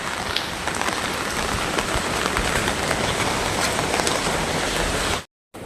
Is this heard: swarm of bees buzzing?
no